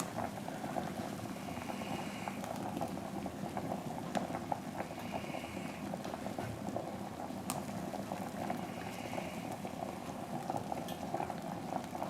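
Chickpeas boiling in a pot on a home stove, a faint steady bubbling and simmering with occasional small pops, no voices.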